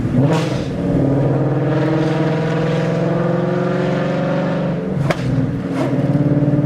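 A car engine revs hard on country back roads with the windows rolled down, a loud steady drone with rising pitch that holds throughout, then a short dip and a surge of acceleration near the end.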